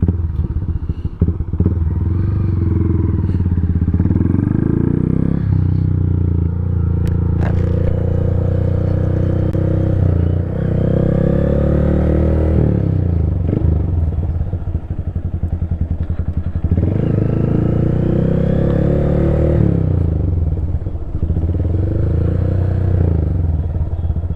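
A 2025 Honda Grom motorcycle fitted with a DHM stage 2 engine revs loudly and close up, its engine note rising and falling through repeated throttle blips with a few clunks and rattles between.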